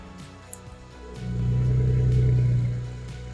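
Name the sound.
car engine running after injector fitting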